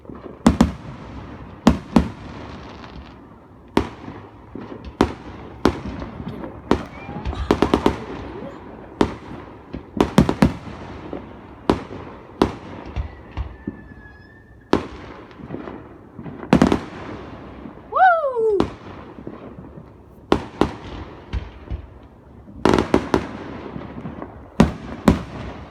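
Fireworks launching outdoors in a long irregular series of sharp booms and pops, with a whistling rising shot near the middle, and occasional voices talking between the bursts.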